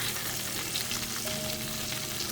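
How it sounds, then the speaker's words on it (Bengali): Onions frying in a pan before hilsa fish is added, a steady close sizzle and crackle of hot oil with faint stirring, no talking. "তো এই পেঁয়াজ মোটামুটি ভাজা শেষ।"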